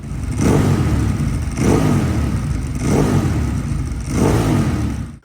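A Harley-Davidson sport bike's V-twin engine revs four times in a steady rhythm, each throaty rise swelling loud and close before dropping back to a rumbling idle.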